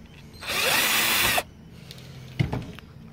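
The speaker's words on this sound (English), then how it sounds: "Get all these bloody screws out." A power screwdriver whirs steadily for about a second while backing screws out of a Cisco 3500 XL network switch, then stops, followed by a sharp metallic clink and small handling noises.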